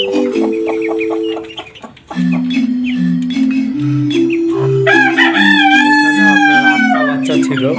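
Caged desi and tiger chickens on a sixth-floor Dhaka rooftop: a rooster crows loudly and close, hens cluck in sustained overlapping calls, with brief voices mixed in.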